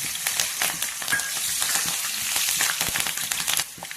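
Green chillies and tempering seeds frying in oil, a loud, close, continuous sizzle with dense crackling spatters and sharp pops throughout, fading slightly at the very end, with no voices.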